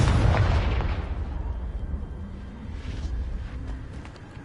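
A Confringo fire-spell explosion from the video game Hogwarts Legacy bursts out loud and close at the start, then fades into a rumbling, crackling tail with smaller pops for several seconds.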